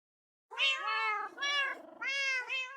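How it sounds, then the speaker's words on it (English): Cats meowing in Minecraft, several drawn-out meows in close succession, clear and alone with no talk. "you live here with all these other cats"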